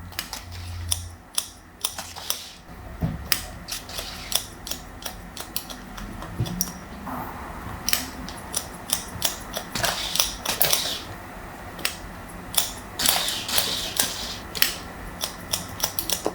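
Scissors snip and thin hair during a long-to-short haircut, a rapid irregular series of crisp metallic clicks close to the listener, with faint background hum and no talking.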